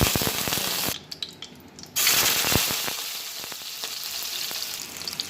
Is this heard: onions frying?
yes